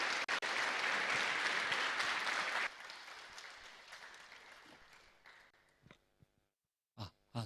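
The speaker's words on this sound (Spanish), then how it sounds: "Vamos a recibir con un fuerte aplauso al pastor Andrés Lim." A church congregation at a Sunday service applauds the pastor, loud dense clapping that drops abruptly after a few seconds, then fades out with scattered claps and a few breaths.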